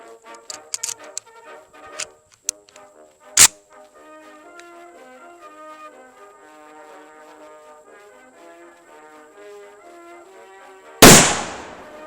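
An Austro-Hungarian Mannlicher carbine fires during a demonstration: one sharp, loud report lands near the end over steady background music, with a few smaller clicks and a crack earlier.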